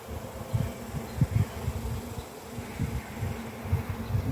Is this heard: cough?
no